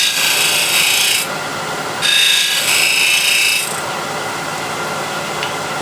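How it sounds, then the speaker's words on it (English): A hand gouge carves and refines a rounded bead on a wooden heirloom box, giving two close, steady rasping scrapes of about a second and a half each, separated by a short pause. "I go slightly in, open the gouge and go in an arc towards outside"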